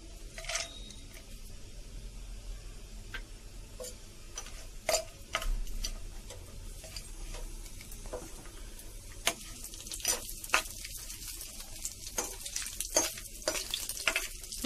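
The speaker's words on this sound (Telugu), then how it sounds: "ఈ డ్రై ఫ్రూట్స్ కొంచెం గోల్డెన్ బ్రౌన్ కలర్ వచ్చే వరకు వేయించుకుందామండి" Cashews and almonds frying in hot ghee, a soft continuous sizzle with sharp intermittent clicks and scrapes from stirring, quiet and close, growing busier toward the end.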